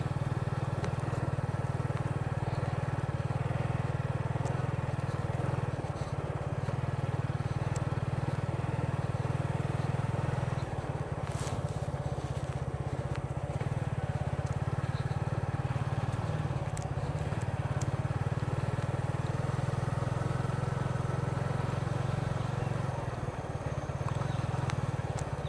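A Suzuki Gixxer FI ABS motorcycle hums along on a village road ride, its engine a steady low drone with wind rush layered over it, continuous and close throughout with slight shifts in pitch.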